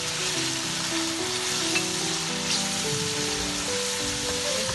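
Mutton (gosht) sizzles and fries steadily in a pan for chana daal gosht, a dense, continuous crackling hiss close by with no talking.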